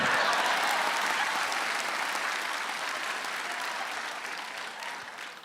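An audience at a stand-up comedy roast show applauds loudly and steadily, a dense sustained clapping that fades slightly toward the end.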